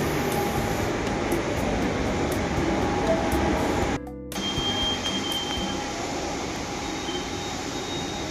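A Pune Metro train runs between Swargate and Kasarwadi with a steady, loud interior rumble and whir that cuts out briefly midway before resuming slightly quieter.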